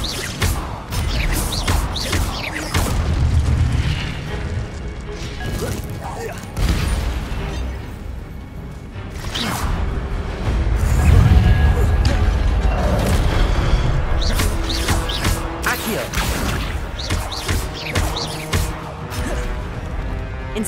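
The Incendio fire spell cast in the video game Hogwarts Legacy, loud whooshing blasts and booming impacts amid a busy combat mix with voices talking throughout.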